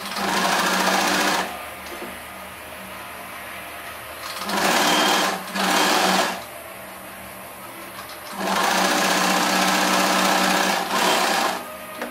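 A sewing machine runs in bursts while stitching along the edge of a plain fabric sleeve, with loud whirring runs separated by short quieter pauses and no talk.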